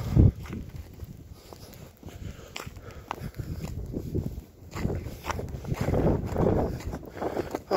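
Wind gusting outdoors in a snowy town near a pond, rumbling and buffeting close to the microphone, with crunching footsteps in snow underneath and a rising gust near the end.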